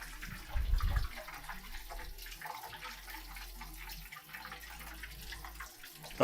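Water from a kitchen tap runs over a pan as it is washed, with a low splashing rush near the start and then quieter trickling and faint scrubbing.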